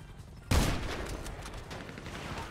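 A single loud sniper rifle shot cracks in GTA 5 during a police shootout, a sharp blast followed by a rolling echo and scattered distant gunfire trailing off.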